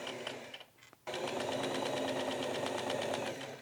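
Sewing machine stitching a flap onto a raincoat: a brief pause, then a steady, loud, rapid mechanical run that continues to the end.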